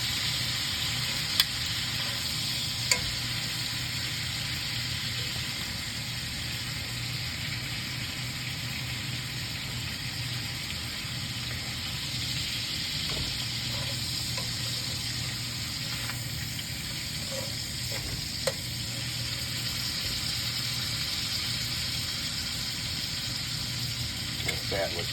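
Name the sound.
raccoon meat fat searing and sizzling in a pan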